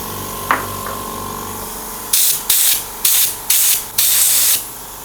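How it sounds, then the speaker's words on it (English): Airbrush spray gun misting pink colouring onto a chilled fromage chiboust cake: five short hissing bursts of even length in a steady rhythm, close and fairly loud, after a quiet stretch with a couple of faint clicks. "So I will spray the pink color on top."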